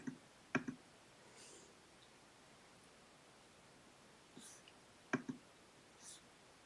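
Computer mouse clicking: two separate pairs of quick, sharp clicks a few seconds apart, close and fairly quiet against faint rustling room noise.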